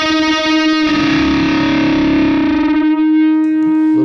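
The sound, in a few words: Friedman amp guitar with stereo chorus and reverb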